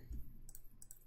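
A computer mouse clicked a few times in quick succession, small sharp ticks close by and faint against a quiet room hum, with no talking.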